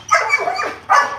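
Dogs barking during bite work training on a table, two loud close bark bursts with a short pause between them and no talk.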